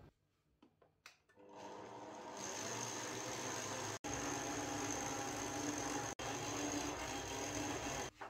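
A food processor kneads Liège waffle dough at speed 3, its motor starting after a few soft clunks and then running in a steady mechanical whir with brief cut-outs, close and unaccompanied by talk.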